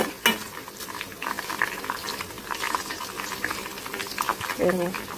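Pieces of aloe vera gel fry in oil for a homemade hair oil, giving a steady close sizzle and bubbling throughout, with occasional clinks of a stirring utensil against the pan.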